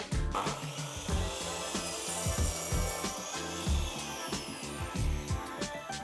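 Hand saw cutting off excess wood at a wooden joint, rhythmic back-and-forth rasping strokes, close and fairly quiet, with no voices.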